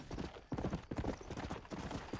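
Horse hooves clip-clop in the Red Dead Redemption video game, a quick steady rhythm of soft thuds at moderate distance continuing throughout, with no talk over it.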